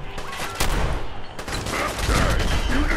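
Rapid video game gunfire in Fallout 4, a dense, loud fusillade of overlapping shots and bursts filling the whole stretch.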